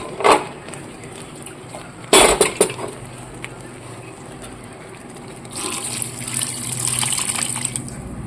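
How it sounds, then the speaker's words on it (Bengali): Warm water is poured into a cooking chickpea curry, a gushing pour that swells and splashes over background kitchen noise, with a few sharp clatters near the start. "এবার দিয়ে দেবো একটু উষ্ণ গরম জল"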